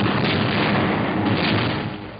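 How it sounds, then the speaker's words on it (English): Explosions during the 1945 bombardment of a German city, heard as a dense continuous roar of blasts and rumbling, loud and unbroken over the whole stretch with no speech. "Explosions and fires are sucking the oxygen from the air."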